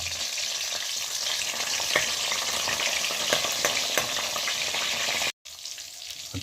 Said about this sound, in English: Some garlic, pepper, and ginger. Put that to my oil,